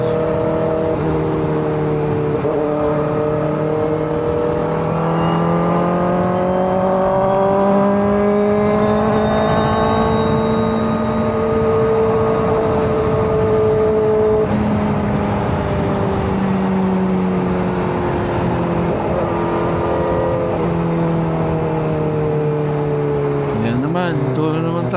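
A Kawasaki ZX-4RR motorcycle engine whines on a night ride along NLEX in traffic, its pitch rising and falling steadily with throttle changes, loud and continuous throughout with a brief shift near the end.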